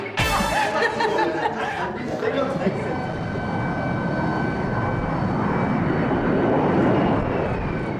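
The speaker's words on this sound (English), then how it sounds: "It's early morning at the airbase," Chinook helicopter and aircraft engines at a military airbase in Afghanistan in early morning, a loud continuous roar with whining tones; a short burst of laughter and voices at the start.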